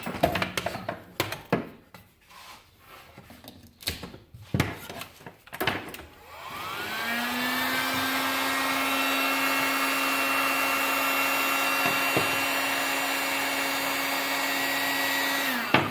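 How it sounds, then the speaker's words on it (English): Heat gun blowing on a wooden scroll-saw piece to lift off a paper pattern: some clicks and handling knocks, then the gun switches on and runs as a steady loud whirring hiss with a rising whine, continuing to the end. "we'll take the pattern off with my heat gun"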